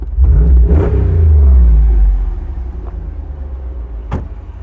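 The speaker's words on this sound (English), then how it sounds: "Do you want some revs from the exterior? Oh yeah, let's do some revs." A deep V8 engine in a 2024 Jeep Wrangler 392 revs up loudly once, holds briefly, then drops back to a low idle, with a couple of short clicks afterward.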